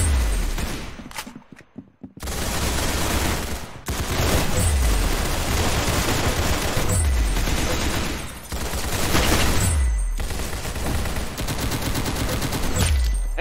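Rapid bursts of automatic gunfire from the Roblox game Arsenal fill the clip, loud and nearly continuous with short gaps, heavy low thumps recurring every couple of seconds.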